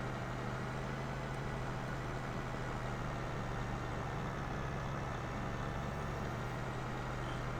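Farming Simulator 22 tractor diesel engine pulling a field implement at about 6 miles an hour, a steady low droning hum with a constant tone, continuous and unchanging throughout, no talking over it.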